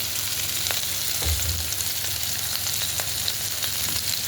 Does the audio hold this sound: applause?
no